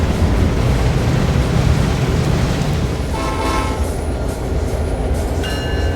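A train rumbles loudly and continuously close by, with a horn-like tone and squealing wheels emerging in the second half.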